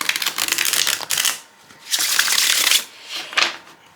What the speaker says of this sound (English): This deck has the most soft, beautiful shuffle that makes me slow down.